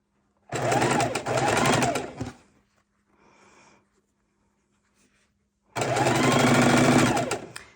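A sewing machine stitches a quarter-inch quilt seam on a queen-size panel quilt in two loud, steady bursts of whirring, separated by a quiet pause with faint handling noise.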